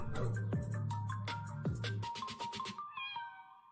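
A cat meows repeatedly, several drawn-out calls in a row, close and clear, with higher, shorter mews toward the end.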